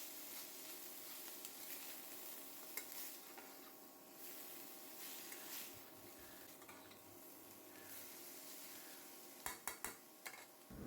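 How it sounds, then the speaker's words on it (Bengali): Meat frying in oil in a home kitchen as chopped onion and capsicum go in, a quiet steady sizzle with occasional stirring scrapes and clinks of a utensil against the pan. "এখন পেঁয়াজ কুচি দিয়ে দিচ্ছি, সেই সাথে ক্যাপসিকাম।"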